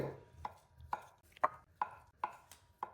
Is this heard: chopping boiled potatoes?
yes